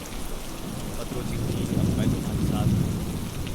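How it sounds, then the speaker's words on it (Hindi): A heavy storm sound effect for a forest scene: steady pouring rain with deep thunder rumbling beneath it, swelling louder in the second half and staying dense and continuous throughout. "तेज बारिश, पेड़ गिरना, बिजली गिरना, पूरा जंगल थर्रा उठा।"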